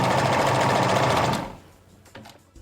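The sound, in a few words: sewing machine stitching fabric and elastic together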